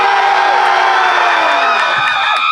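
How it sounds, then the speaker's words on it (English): A convention panel audience screams together in one loud, sustained crowd yell lasting a couple of seconds, with whoops and high voices mixed in and no pause. "Let's all scream."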